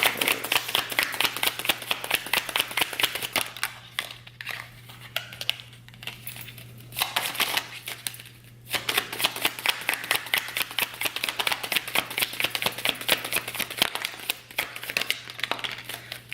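Tarot cards are shuffled over and over, a rapid run of crisp papery clicks and flutters with short pauses between bursts and no talking.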